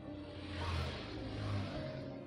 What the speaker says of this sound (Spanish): Eso es un ruido de moto.